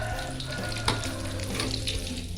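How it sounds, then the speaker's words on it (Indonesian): Catfish frying briefly in hot oil, a steady, dense sizzle running close and even for a couple of seconds, with one small pop partway through. "kita goreng sebentar aja ya teman-teman"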